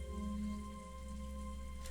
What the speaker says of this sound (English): perhaps the sound of the rain was making her sentimental